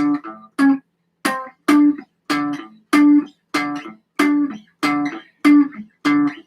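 Repeated guitar notes picked in an even, clock-like rhythm, about a dozen short bursts separated by brief silences, close and clear with no voices.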